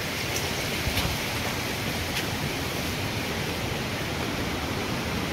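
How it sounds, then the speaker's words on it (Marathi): Hidden waterfall near Khopoli rushing with a steady, dense roar of white water, loud and unbroken throughout, with no voices over it. "या असे धबधबे बघायला मजा येते, पूर्ण असं हिडन. हा पांढरं शुभ्र पाणी."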